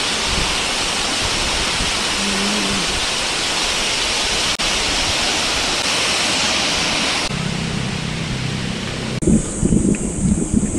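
Tamaraw Falls in Puerto Galera, Mindoro, gives a loud, continuous rushing roar of falling water that fills the whole stretch, its texture shifting slightly near the end.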